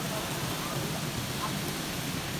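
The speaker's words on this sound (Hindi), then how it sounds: "इतनी तेज बारिश हो रही है।" Heavy rain pouring at a petrol pump, a dense, steady hiss of falling water throughout with no pauses, close and constant until it cuts off.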